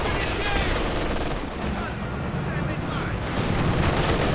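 Heavy mortar strike called in by an artillery officer in Company of Heroes 2, a steady wash of shell blasts and gunfire at mid distance, continuous and dense, with a voice talking over the barrage.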